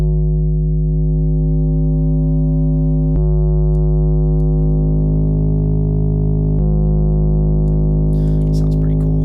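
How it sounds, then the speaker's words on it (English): A sine wave pushed through Renoise's Food Driver hyperbolic-tangent distortion rings out as a loud, steady, buzzy harmonic drone, shifting tone slightly a couple of times while holding continuously throughout. "My personal favorite distortion to put on sine waves is Food Driver, which is just a hyperbolic tan"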